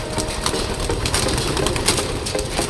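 Pigeons are released to fly, giving a close burst of flapping wings and fluttering rustle with a few soft coos over an outdoor background.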